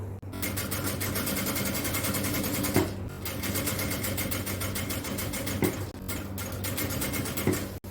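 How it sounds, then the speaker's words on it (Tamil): A sewing machine runs steadily while stitching piping onto an XL jalabiya, a continuous close mechanical whir with a fast even needle rhythm that barely pauses across the whole stretch. "இந்த மாதிரி பின் பண்ணி வச்சுட்டு தைக்கலாம்"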